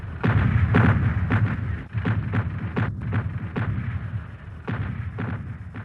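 Long-range 15-inch naval gun shells striking during the battle of Verdun, heard as a dense run of repeated heavy booms and blasts, loud and close, with no voices.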